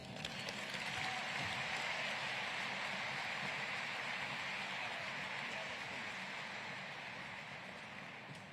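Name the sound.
audience applause at graduation ceremony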